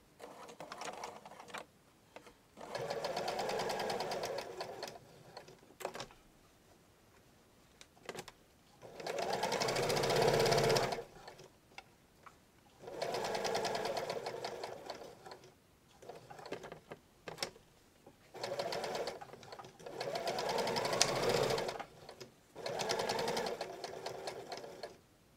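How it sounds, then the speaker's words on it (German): Sewing machine topstitching around the outside of a small fabric bag with snap fastener and inner pocket, whirring in four sustained runs of a few seconds each separated by quiet pauses, alone and close. "Und jetzt steppen wir nur noch außen einmal drüber."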